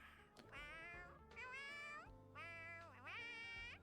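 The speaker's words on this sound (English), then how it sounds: "this sounds like more like meows than woofs" A small creature in the video game Honkai Star Rail gives several cat-like meows, three or four drawn-out pitched calls in a row, clear and close over a soft game background.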